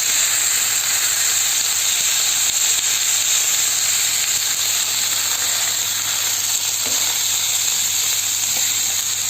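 Minced meat, half a kilo, tipped onto onions already fried in a pan, giving a steady loud sizzle and hiss that runs unbroken throughout with no talking.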